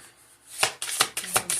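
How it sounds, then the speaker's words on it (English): A tarot card deck is shuffled in several quick riffling bursts, close and crisp, each a short papery flutter with brief pauses between. "I already shuffled this deck before I got on here too, but I'm going to do it a couple more times."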